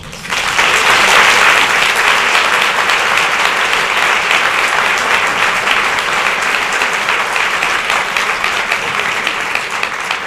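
An audience at a civil rights gathering in Coatesville, Pennsylvania, bursts into sustained applause that starts abruptly and holds loud and steady throughout, a dense crowd of clapping hands with no talk over it.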